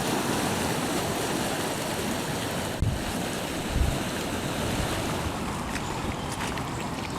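Floodwater surges through a drainage channel near Denbigh, North Wales, a steady, loud roar of rushing water mixed with wind buffeting, with a couple of brief thuds.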